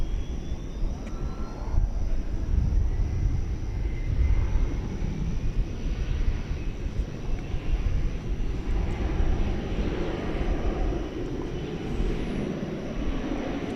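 An aircraft taking off at night at DFW Airport, a sustained broad engine roar that swells and holds steady at moderate distance for the whole stretch, with no talk over it.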